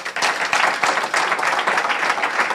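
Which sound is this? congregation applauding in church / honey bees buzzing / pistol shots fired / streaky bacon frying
congregation applauding in church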